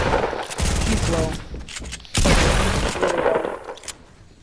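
SMG fire in a shooter video game rattles in loud rapid bursts, two long sustained volleys with a gap between and a trailing shot, close and dominant.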